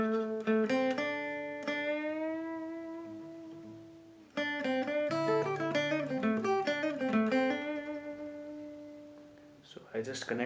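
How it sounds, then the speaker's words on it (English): Two pentatonic guitar licks are joined into one continuous phrase, with plucked notes, slides and sustained tones, then a brief pause and a final flurry, played clean and solo at moderate volume. "Now you can connect the 1st and 2nd lick like this"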